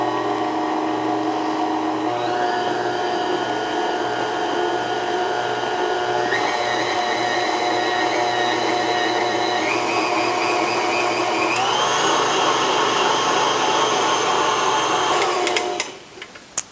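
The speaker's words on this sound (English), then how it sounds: "Let's turn the whisk on just to get this vanilla incorporated." An electric stand mixer whisk beating vanilla extract into homemade marshmallow mixture, a loud steady motor whine stepping up in speed several times before cutting off abruptly near the end.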